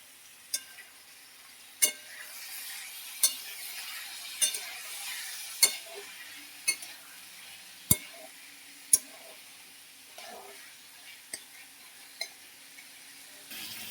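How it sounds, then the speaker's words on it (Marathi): Cauliflower, potato and green peas frying in a pan, a steady high sizzle broken by about a dozen sharp spatula clinks and scrapes at roughly regular intervals, close and clear. "आता आपण ह्याला फ्राय करून घेऊया."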